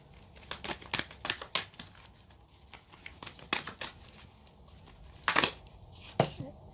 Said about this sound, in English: let's get you a final oracle card if I can manage to shuffle